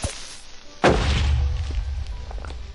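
A Minecraft creeper explodes with a single sudden close thump, then a low rumbling tail that fades over the next couple of seconds.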